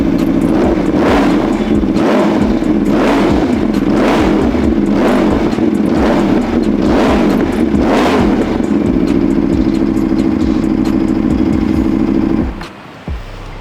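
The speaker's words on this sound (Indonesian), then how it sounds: "Bagi yang penasaran, V4 65 derajat tuh suaranya seperti apa sih?" A 2019 Aprilia RSV4 RR with a 65-degree V4 engine blipped loudly up close, about seven sharp throttle revs over a steady idle, then cut off abruptly near the end.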